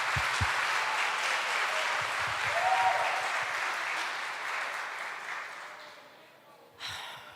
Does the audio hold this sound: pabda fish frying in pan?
no